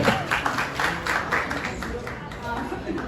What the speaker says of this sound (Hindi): जोरदार तालियां एक बार दोस्तों आप सभी से निवेदन